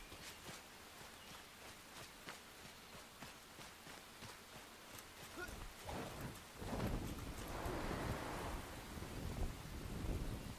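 Rain in the video game Enshrouded, a steady soft hiss of falling drops that swells into a heavier, louder downpour with low rumbling toward the end.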